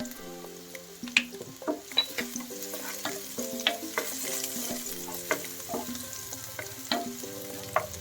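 Garlic and then black pepper frying in a pan for a sweet and sour fish, with a steady close sizzle broken by repeated clinks and scrapes of a utensil stirring against the pan.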